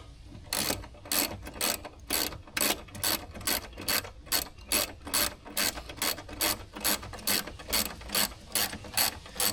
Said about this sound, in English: something about that noise of a ratchet just feels good